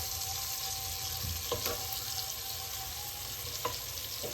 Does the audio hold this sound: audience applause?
no